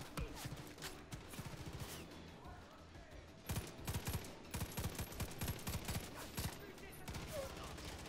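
Far Cry 5 game gunfire: sustained automatic bursts and rapid shots rattle on steadily, dense and loud, with some talk underneath.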